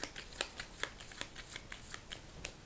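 Event cards for the board game Bios: Megafauna being shuffled by hand, a soft, quiet riffle of rapid papery flicks and snaps close by, with no talking.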